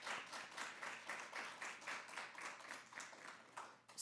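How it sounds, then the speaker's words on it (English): An audience applauds young leaders at a Black History Month roundtable, with moderate clapping in uneven pulsing waves, a fairly small crowd heard at medium distance with no talk. "Can I get just one more round of applause for all of our young leaders who shared with us today?"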